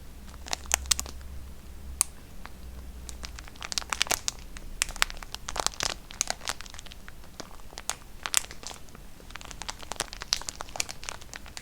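Close, irregular crinkling and crackling of a handled cardboard tissue box and tissue, with quick rustles and crunches coming in bursts throughout.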